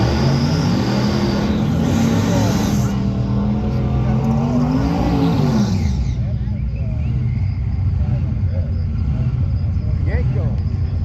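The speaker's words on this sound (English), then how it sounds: "You hear the supercharged lumping along for Joseph Gunta, the 69 model with the Yenk" A supercharged 1969 Chevelle with Yenko stripes roars at a drag strip, a loud, close engine rumble that rises in pitch then drops away after several seconds, under an announcer's commentary.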